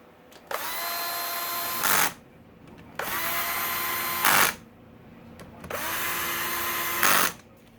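A power tool cinching down engine bolts during a Honda CRF250R motor rebuild: three long whirring bursts, each ending in a sharp, louder rattle as the bolt seats, separated by short pauses, close and loud with no talking.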